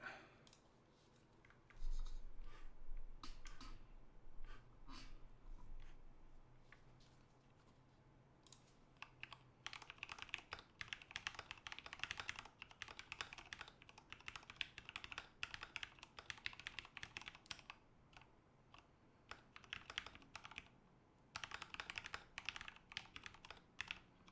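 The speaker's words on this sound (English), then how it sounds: "let me do a quick typing test" Typing on a KAT Alpha mechanical keyboard, close up: a few scattered key clicks at first, then a dense, fast, continuous clatter of keystrokes that runs to the end, with no talking.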